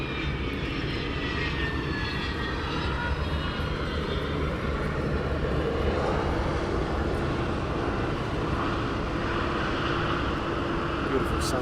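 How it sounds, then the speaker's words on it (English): A fixed-wing aircraft taxis at East Midlands Airport at sunset, its engines a steady, loud broadband roar and whine that holds unbroken throughout. "he will taxi down the taxiway towards us very shortly"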